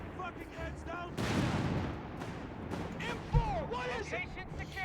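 Flak gun fire in Company of Heroes 3, heard as repeated booming gunfire and crashes over a dense battle din while a caster talks over it.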